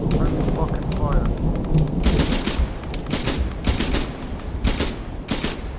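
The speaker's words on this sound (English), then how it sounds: "Enemy contact inside the building, firing at the other squad." Dense gunfire crackles through a Vietnam-era military simulation firefight, bursts of shots repeating every second or so over a steady roar, with players talking over the shooting.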